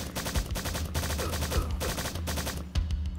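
Turret gunfire in the video game Strife: quick, loud, rhythmic volleys of shots in close succession, fired in short repeating bursts.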